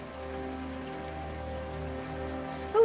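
Rain falling in the video game Rainswept, a constant soft patter over a low hum and faint tonal music, with a short brighter sound rising at the very end.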